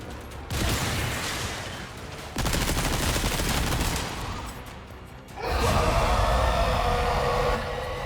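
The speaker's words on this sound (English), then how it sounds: "You just flashbang me?" A flashbang grenade in Resident Evil 4 fills the scene with loud, dense blasts and rumbling noise in surges, then settles into a harsh wash with a high, steady ringing tone.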